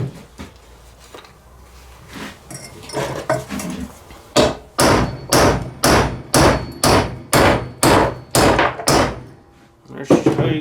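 Hard hammer blows strike metal in a steady run of about a dozen loud, evenly spaced hits, preceded by quieter tapping and handling, while changing a Ford 800 tractor's intake/exhaust manifold.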